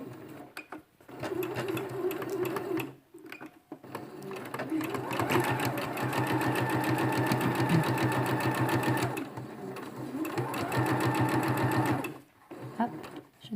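Sewing machine stitching a fabric face mask a centimetre from the edge, running in a steady rapid chatter through most of the clip with brief pauses, close and loud, with someone talking over it.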